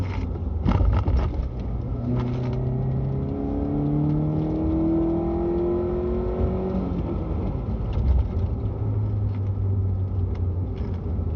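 A Chevrolet Spark with a new aftermarket air intake revs up through rising, whirring engine tones across several gear-like sweeps, then settles into a steady drone, heard from inside the car.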